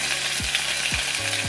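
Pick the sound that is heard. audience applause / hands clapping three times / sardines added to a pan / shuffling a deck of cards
sardines added to a pan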